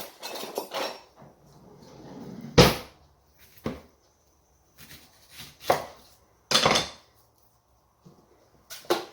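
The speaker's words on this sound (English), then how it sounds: "First, let's cut them up." A small knife chops vegetables on a cutting board in irregular bursts of sharp, close knocks, some louder thuds separated by short pauses, with no talking.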